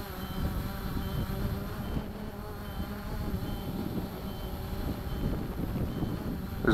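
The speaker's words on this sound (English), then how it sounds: "There's a wind, it's trying to fight that wind in position hold." A Cheerson CX20 quadcopter drone hovers in position hold against the wind, its dense buzzing rotor drone mixed with steady low wind rumble, continuous and fairly loud.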